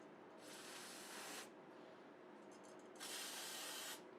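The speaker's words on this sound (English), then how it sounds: "Put a little brake cleaner on there to kind of clean it up and dry it up" Brake cleaner hisses from an aerosol can in two short sprays onto a Kohler K Series small-engine carburetor, each about a second long, close and fairly quiet with a pause between them.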